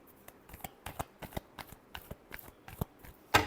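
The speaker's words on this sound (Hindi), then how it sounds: "Last shuffle." A deck of tarot cards is shuffled by hand in quick, irregular riffling bursts, close and fairly quiet, ending in one sharper snap.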